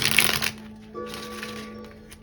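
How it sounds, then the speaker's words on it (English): Tarot cards shuffled by hand during a live reading, a fast papery riffle burst at first, then softer sliding and tapping of the deck, close and alone with no talk. "I'm gonna do a live shuffle."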